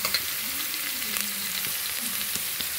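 Onions fry in a pan until reddish, a steady, close hiss of sizzling oil for pasta cooked Kadapa style, with no talk.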